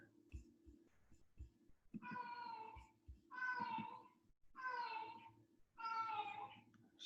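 A house cat meows insistently, four drawn-out complaining cries at a steady pace over a low background hum and a few soft knocks.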